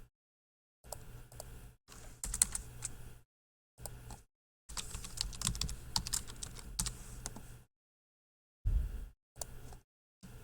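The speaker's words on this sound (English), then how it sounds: "Got caught talking, forgot to type it out." Someone types on a computer keyboard close by in short bursts of rapid clicking broken by silent pauses, with one long continuous run in the middle.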